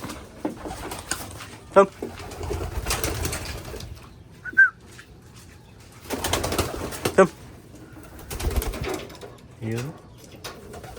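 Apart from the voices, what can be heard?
racing pigeons in free flight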